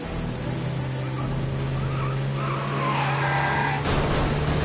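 A car skidding and crashing in Mafia Definitive Edition, a steady loud tire skid and engine roar in rain, ending in a sudden burst of impact noise near the end.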